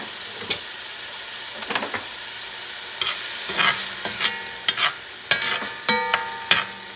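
Yellow onion hits a hot pan alongside beef heart, giving a loud sizzle and hiss broken by repeated scraping stirs, the clatter coming in irregular bursts that grow busier toward the end.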